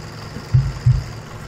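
A truck engine idles in the Farming Simulator 17 video game, a low steady rumble with two deeper thumps close together near the middle.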